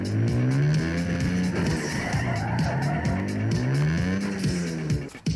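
Engine revving with gliding pitch sweeps and tire squeal as a tuned car drifts in Need for Speed Underground 2, loud and continuous, sliding through repeated rising and falling engine tones.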